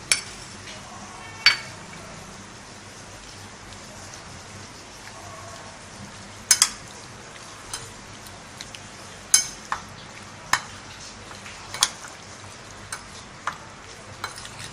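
Chicken is stirred with masala and salt in a pan, sparse sharp scrapes and clinks of a spoon against metal over a soft, steady background hiss.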